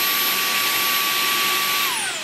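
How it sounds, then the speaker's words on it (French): Roidmi X30 Pro cordless stick vacuum runs loud and close with a steady high whine, its motor pitch dropping as it winds down at the end; nobody speaks. "Une fois que l'aspirateur est en marche"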